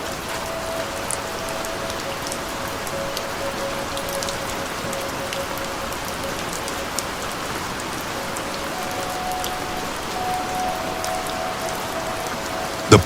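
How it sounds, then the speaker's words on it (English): Steady rain falls in a rainforest, a dense, even patter of drops on leaves and surfaces at moderate distance, with faint sustained insect-like tones running underneath and no voices. "Drops slide down its emerald surface, merging with the rhythm of falling rain."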